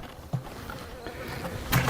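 A single honeybee trapped inside a bee vacuum gives a soft, steady close buzz, with a faint body hum and two brief louder bumps as it shifts against the container.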